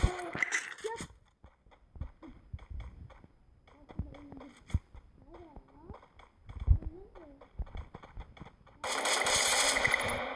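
Scattered gunshots ring out in a match of the video game Garena Free Fire, as sharp, separate cracks at uneven intervals. Brief voices sound between them, and a loud burst of game noise closes the passage.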